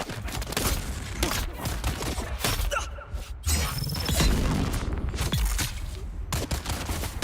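Gunfire rattles in the video game Dune Awakening, dense bursts and rapid shots with a few heavier booms over several seconds, loud and close.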